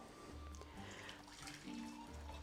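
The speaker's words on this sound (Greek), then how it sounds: "Και προσθέτω ζεστό νερό" Hot water poured into a container or glass over rice for basmati, a soft splashing trickle in a short, quiet burst.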